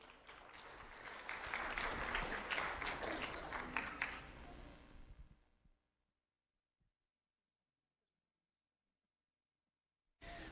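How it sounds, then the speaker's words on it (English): An audience applauds a pre-K student at a school recognition event with dense, lively clapping for about five seconds that fades to silence, followed by a brief burst of sound at the end. "Let's have a round of applause for Ryan."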